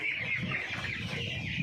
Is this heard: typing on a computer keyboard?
no